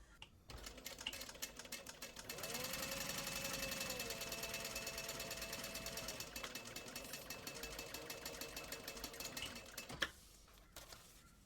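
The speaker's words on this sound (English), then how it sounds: "Then I want to sew across the top using a 1/4 inch seam allowance." A sewing machine stitches a seam across vinyl and lining for a backpack, a fast, steady mechanical chatter that runs for several seconds before slowing and stopping, quiet and close.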